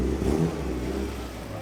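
The four-cylinder engine of a Peugeot 405 Mi16 BTCC replica roars at speed on a race circuit, a dense steady revving drone heard from inside the car, loud and continuous.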